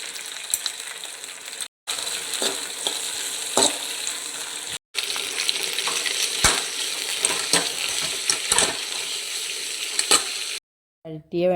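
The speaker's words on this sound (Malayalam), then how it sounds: "ചട്ടി വെച്ച് വെണ്ടയ്ക്കും തക്കാളിയും ഒന്ന് വഴറ്റിയെടുക്കാം." Okra and tomato sautéing in a pan for a Thrissur-style roasted-coconut sambar, a steady close sizzle with stirring scrapes and clinks, broken by two brief pauses.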